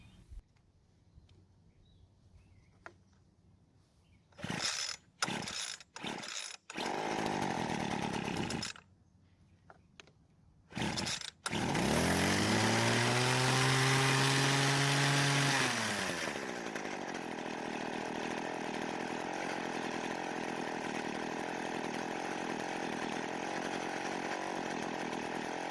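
Worn hedge trimmer with a small two-stroke engine that won't stay running: several short pull-start attempts, then it fires and revs loud and high, and settles to a steady rough idle.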